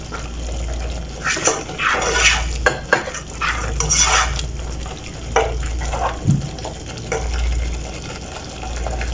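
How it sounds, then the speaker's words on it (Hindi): A spoon stirs spices into homemade pizza sauce in a pan, giving close, repeated scraping and soft clinks against the metal in uneven strokes over a low steady background hum, with no talking. "सारे मसाले डाल के अच्छे से मिला देंगे।"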